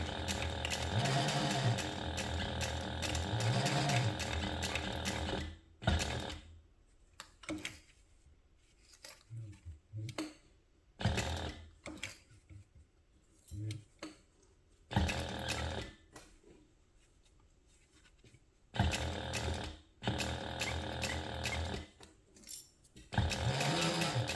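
A sewing machine stitching bag webbing, with short bursts of rapid mechanical stitching separated by quiet pauses, close and fairly faint, and no voices.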